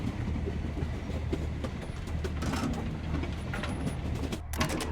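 A train in the video game Void Train runs steadily with a continuous low rumble and rhythmic rail clatter, moderately quiet with no talk.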